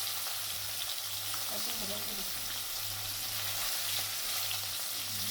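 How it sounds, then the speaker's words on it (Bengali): Chopped onion sizzles in hot oil for a katla fish dopiaza, a steady close crackle that continues evenly throughout, with a low hum underneath. "এরপর একটা কুচানো পেঁয়াজ দিয়ে দিচ্ছি তেলের মধ্যে"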